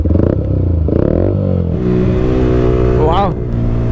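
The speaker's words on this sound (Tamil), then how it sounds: "எக்ஸாஸ்ட் நோட் மட்டும் கேட்குறீங்களா?" Yamaha R15 V4 motorcycle with an Akrapovic exhaust revving hard, loud rising and falling bursts with crackly pops close by, and a chirping sweep near the end.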